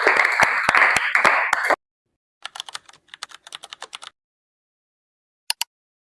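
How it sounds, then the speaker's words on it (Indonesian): A classroom of pupils claps together in a dense, loud burst of applause that stops abruptly, followed by scattered lighter claps and a final pair of sharp claps. "Beri tepuk tangan untuk semuanya."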